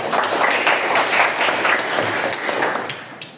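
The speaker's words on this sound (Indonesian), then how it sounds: "Beri tepuk tangan untuk" Classroom students applaud together at a lesson in a junior high school, a steady mid-level patter of many hands clapping at once, continuing without a break.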